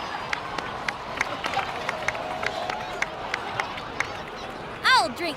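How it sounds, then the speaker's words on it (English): Applause and cheering from an in-game crowd in Genshin Impact, a dense steady patter of clapping at moderate distance lasting several seconds, with a brief burst of other game sounds near the end. "please give another round of applause for them"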